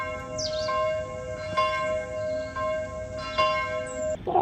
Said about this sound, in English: something reassuring about the tolling of a bell